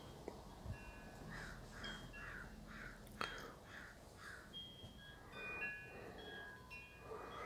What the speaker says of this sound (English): Attention, the crows,